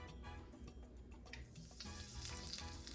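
Saltfish frying in hot oil for a Guyanese fried bake and saltfish dish, a steady close sizzle and crackle running throughout with no talking.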